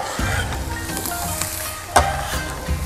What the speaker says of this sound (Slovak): Tento zvuk potrebujete, aby to takto krásne